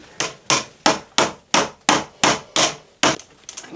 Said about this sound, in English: so I'm going to try and hammer it out